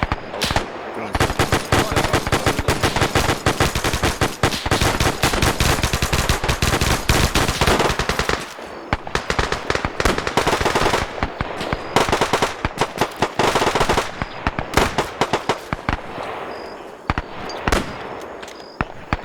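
A video-game firefight involving WW2 US paratroopers at Guadalcanal: dense, loud bursts of automatic fire and rapid single shots rattle almost continuously, thinning into scattered cracks toward the end.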